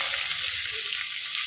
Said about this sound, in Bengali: এই যে আলুটা ভাজা হচ্ছে